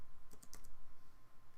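A single Enter key pressed on a computer keyboard while working in AutoCAD, a short crisp clack among a few soft, close keystrokes over quiet room hum.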